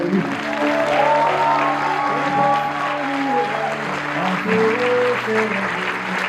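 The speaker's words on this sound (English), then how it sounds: "The applause cannot go down." Audience applauding young Foundational Stage 1 learners after their storytelling at a school event, a steady wash of clapping throughout with tonal music or voices layered underneath.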